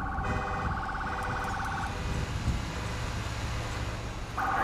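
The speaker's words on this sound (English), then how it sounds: "Turn off your car alarm." Car alarm in the video game GTA 5 on a snowy crime scene, a loud repeating electronic warble that cycles, stops, then restarts, over a low engine hum.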